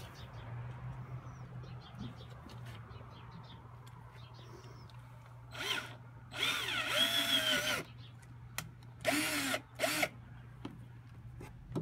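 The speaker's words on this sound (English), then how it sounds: "about to start drilling" A power drill bores holes into a plastic bumper piece while LED pod fog lights go onto a 2016-2019 Toyota Tacoma; a few short, whirring bursts of drilling stand out against a quiet outdoor background with faint birdsong.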